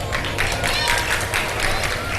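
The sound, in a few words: audience applause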